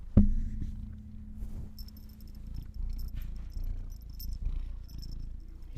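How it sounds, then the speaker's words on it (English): A cat purrs close to the microphone, a steady low rumbling drone running throughout, with a sharp bump at the start and faint light rustling and ticking above it, no talking. "He's just purring away."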